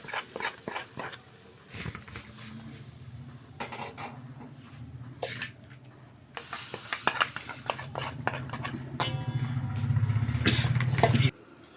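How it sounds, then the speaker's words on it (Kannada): Fried masala is mixed into grated coconut in a pan, with a spoon scraping and stirring in a steady, close rhythm and metallic clinks against the pan, getting louder and busier toward the end. "ಇದನ್ನು ತೆಂಗಿನಕಾಯಿ ತುರಿಗೆ ಹಾಕ್ಬಿಟ್ಟು ಮಿಕ್ಸ್ ಮಾಡ್ತೀನಿ."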